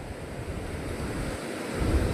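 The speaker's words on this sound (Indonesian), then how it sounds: "Namun ombaknya itu benar-benar sangat ganas sekali di sini ya." Rough ocean surf crashing at Ngliyep beach, a continuous loud wash of breaking waves mixed with wind buffeting the microphone, swelling louder toward the end.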